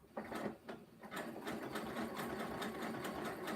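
Sewing machine stitching two lengths of rope together for a rope basket, a steady close whirring hum with rapid rhythmic needle clatter running continuously after a brief start-stop.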